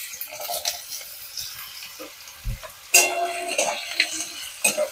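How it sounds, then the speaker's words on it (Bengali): Potatoes fry in a pan with a low, steady sizzle, broken by scraping stirs and a few louder clinks of a utensil against the pan, close by. "প্রথমে আমি আলুটা দিয়ে দিলাম।"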